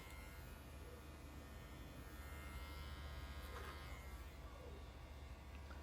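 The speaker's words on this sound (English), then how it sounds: "Little clipper over comb action." An electric hair clipper cuts hair over a comb, a close steady high buzz with faint snipping texture running throughout, quiet and without talking.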